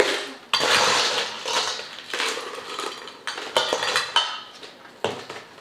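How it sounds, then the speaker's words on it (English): Ice cubes clattering and rattling into a 22-ounce plastic cup for a fruit tea drink, several close bursts of clinks over a few seconds. "lagyan lang tayo ng cup full of ice sa 22 ounce na cup"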